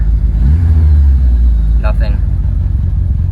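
A 1997 GSX car engine with an exhaust sensor reading fault runs with a deep, steady rumble and a slight rise in revs, close and loud under continuous talking.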